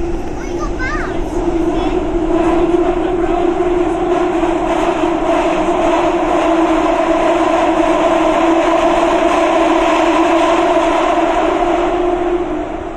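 London Overground train rolling along, a steady loud rumble and drone with faint rattles throughout, with people's voices heard near the start.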